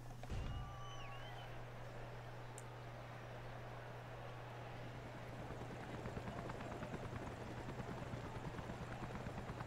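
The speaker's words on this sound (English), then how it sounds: "It's the one with the Corvette versus a helicopter." Helicopter rotor drone from a Forza Horizon race against a Corvette, a steady low thrum with a constant hum running the whole way under a broad wash of engine and wind noise, no talk.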